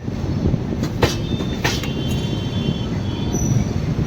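A Rameswaram to Ayodhya Cantonment passenger train in India rolls steadily along the rails, a continuous loud rumble close by with brief metallic squeals and clicks, no voices.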